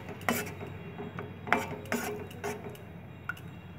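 Orange milk pudding is stirred in a pot and the pot is covered, giving a few scraping strokes and light metallic clinks close by over a faint background hum.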